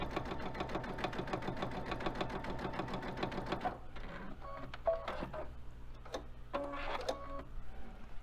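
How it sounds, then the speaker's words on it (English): A sewing machine runs a fast, even basting stitch along a quilt border, then slows into short, separate bursts of stitching with pauses between, close and moderately loud. "there's that nice fat basting stitch that it's doing for me"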